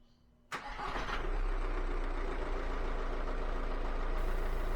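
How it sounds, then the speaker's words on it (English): A VW Golf Mk5 2.0 TDI diesel with an EGR valve just cleaned cranks briefly, fires abruptly and settles into a steady, close idle that runs without a break. "when I went to start the engine to see if everything was"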